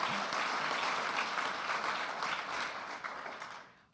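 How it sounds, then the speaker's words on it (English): Steady applause from a room of listeners at an award evening honouring civil servants, fairly faint and even throughout, fading away toward the end. "let's have a round of applause for today's civil servants in this room and elsewhere"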